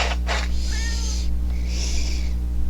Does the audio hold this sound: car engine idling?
no